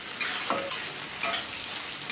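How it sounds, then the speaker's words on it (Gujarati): Chopped green chillies and curry leaves sauté in oil in a pan for batata poha. A close, steady sizzle carries a few quick stirring scrapes, with no talking. "અહીં આપણે મરચાંને સારી રીતે સાતળી લીધા છે"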